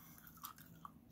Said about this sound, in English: You're chewing so loudly.